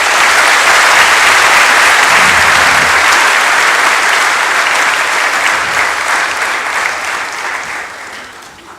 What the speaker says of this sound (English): I request all of you to give him a very thundering round of applause.